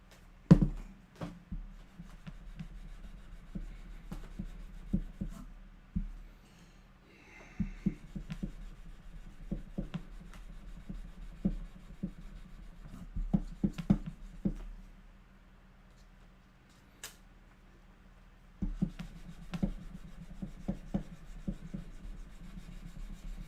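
Hand sanding of a knife blade: intermittent rubbing and scraping strokes, some quiet and some sharper, in uneven bursts separated by short pauses, close up with no talking.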